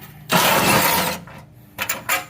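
A stubby cordless impact wrench spins off a 10 mm bolt on a Ford Explorer ST, one long loud burst of whirring hammering followed by a few short, sharper bursts.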